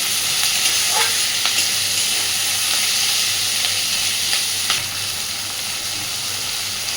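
Tomato being stirred and lightly fried in a pan with onion for a piyaj posto dish, giving a constant sizzle with occasional spoon clicks and scrapes.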